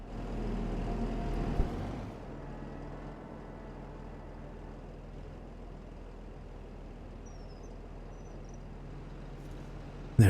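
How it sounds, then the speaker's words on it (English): A grain truck in Farming Simulator 25 pulls away with a steady low engine rumble that starts louder and then settles to a quieter drone, with no one speaking. "There goes the truck with the rest of our grain."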